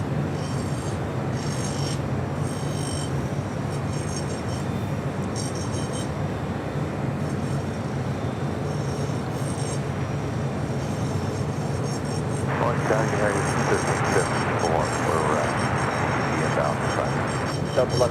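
An airliner taking off at LAX, a continuous loud engine roar and rushing noise that swells partway through, with people talking under it.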